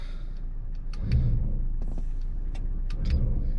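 A vehicle engine rumbles low and builds gently as it pulls to take up strain on a recovery strap, with faint clicks and brief higher rattles over the steady drone.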